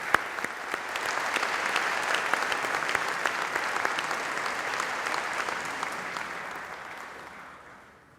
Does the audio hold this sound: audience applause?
yes